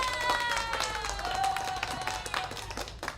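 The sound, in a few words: virtual applause sound effect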